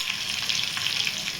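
Cumin seeds sizzle in hot oil for a Marathi drumstick curry, a steady, close, bright crackling hiss that holds evenly throughout without pause.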